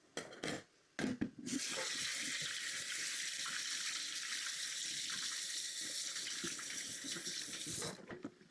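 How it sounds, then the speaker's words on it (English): Kitchen tap water runs in a steady, loud stream while drained kidney beans are rinsed, after a few brief splashy bursts at the start. "I'm going to get the kidney beans drained and rinsed"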